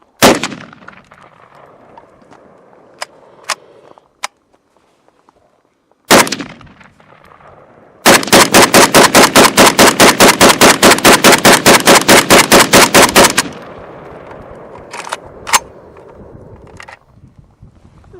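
A CMMG Mk47 rifle firing 7.62x39 rounds fed from an AK magazine: a few loud, separate shots, then a long rapid string of evenly spaced, sharp cracks lasting several seconds before a quieter tail with faint clatter.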